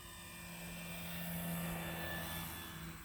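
An E-flite Carbon Z Cub SS 2.1m RC airplane drones overhead with its electric motor throttled back for slow flight, a steady hum with slight swells in loudness, fairly distant and alone.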